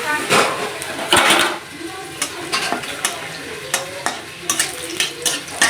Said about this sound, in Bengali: শুকনো লঙ্কা দিয়েছি, এবার একটু পাঁচফোড়ন দিয়ে দেবো, একটা তেজপাতা দিয়ে দেবো দুটো।